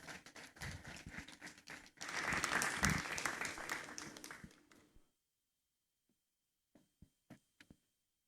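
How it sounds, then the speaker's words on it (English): An audience at a Ghanaian awards ceremony applauds to welcome a guest speaker: a dense round of clapping that swells to a peak, runs about five seconds, then stops abruptly, followed by a few faint scattered claps. "let's welcome him with a round of applause"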